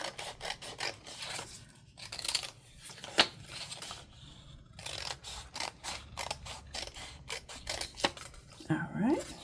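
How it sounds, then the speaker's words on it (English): Scissors snip a strip of patterned paper into edging for a double-sided craft tag, several short crisp cuts and rustles scattered across the span, close up and fairly quiet, with speech in between. "I'm going to trim it down and kind of use it"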